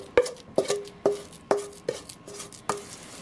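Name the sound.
scraping sweet potato brownie batter into a baking dish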